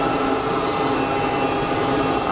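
A Bombardier CRJ regional jet at Geneva Airport produces a continuous whining drone with a sustained high tonal hum, steady and moderately loud throughout.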